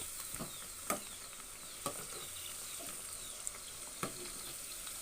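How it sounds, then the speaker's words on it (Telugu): Poha vadas deep frying in hot oil while being turned until golden, a steady close crackling sizzle with occasional sharper pops and spatters throughout. "గోల్డ్ కలర్ వచ్చేంత వరకు మనం డీప్ ఫ్రై చేసుకోవాలండి ఈ వడల్ని"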